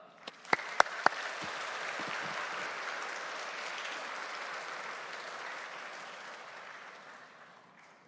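Church congregation applauds to welcome a preacher to the front, starting with a few sharp claps that swell into steady, moderately distant clapping filling the room before slowly fading out.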